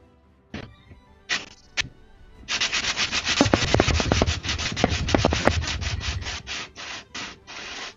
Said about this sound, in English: sandpaper just helps really roughen everything up and hopefully come off all that easier